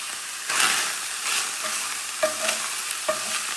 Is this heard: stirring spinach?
yes